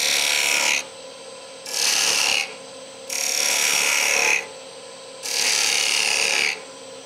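Wood turned on a lathe with a chisel, cutting a V-groove and bead profile: four rasping cutting strokes, each about a second long, alternate with short quiet gaps of the spinning workpiece.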